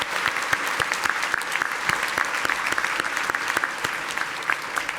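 Sustained applause from a commencement audience at a College of Veterinary Medicine and Biomedical Sciences ceremony, honoring the honors students; dense, steady clapping from many hands filling the whole stretch with scattered louder claps.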